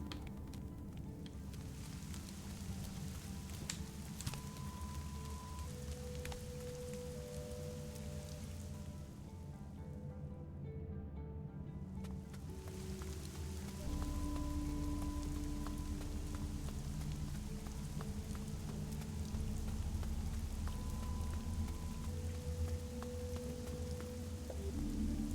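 Soft steady rain patters on surfaces in the background, a quiet continuous hiss with scattered drips, briefly thinning then growing slightly fuller.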